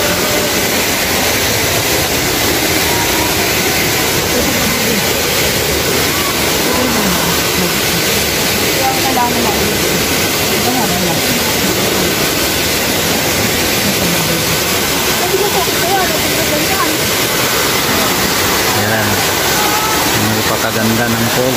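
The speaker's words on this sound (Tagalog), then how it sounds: "ito yung Daranak Falls dito sa Tanay Rizal" Daranak Falls in Tanay, Rizal pours with a constant, loud broadband roar of falling water that never lets up, and a voice seems to talk faintly beneath it.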